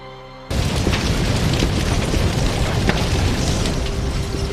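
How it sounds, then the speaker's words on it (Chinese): Fireworks go off for the millennium celebration. A sudden loud burst kicks off a sustained crackling roar of explosions with a few sharper pops scattered through it, all dense and fairly close. "他们放的烟火"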